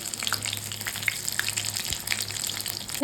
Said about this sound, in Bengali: আমি আলুর চপ, ডিম এবং বেগুনি ভাজে নিচ্ছি, ডিমের চপও ভাজছি